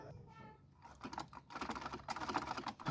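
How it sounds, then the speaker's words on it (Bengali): A domestic sewing machine, apparently due for servicing, stitches fabric in quick rattling bursts that grow denser and louder toward the end, with no talk over it. "প্রথমে আমি সেলাই করে দেখাচ্ছি সেলাইটা কিভাবে হয়"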